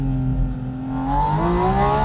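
A Porsche 718 Spyder RS with a 4-litre flat-six revs behind the listener, its tone holding steady then climbing smoothly as it rises toward a higher pitch, loud and continuous.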